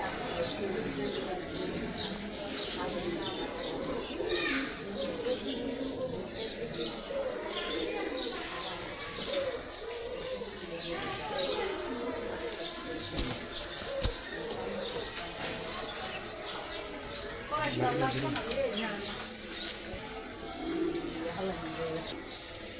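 Soft, low coos of short-beaked pet pigeons repeat throughout, mixed with small chirps and a busy background of voices and rustling.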